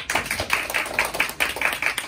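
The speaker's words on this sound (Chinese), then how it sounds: "掌声鼓励。" A seminar audience in a Taipei hotel claps in an even, rhythmic beat, with crisp, close hand claps repeating about four times a second.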